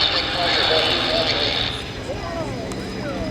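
Fixed-wing airplane flying past at an Abbotsford airshow, a loud continuous engine roar that swells and then eases slightly as it moves away, with an announcer talking over it.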